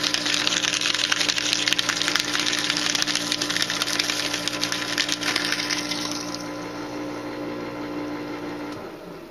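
A repaired Techko paper shredder runs steadily with a loud, dense grinding and whirring hum as paper is fed through, then the cutting noise thins out near the end while the motor keeps droning.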